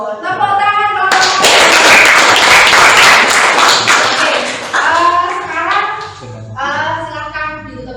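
Classroom applause bursts out loud and dense for several seconds, a crowd of students clapping together, then fades as voices and speech take over.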